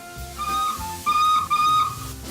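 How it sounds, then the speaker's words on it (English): A steam engine whistle toots twice, a short blast and then a longer, louder one, shrill and clear over a steady low rumble in a Postman Pat children's animation. "you toot the whistle here"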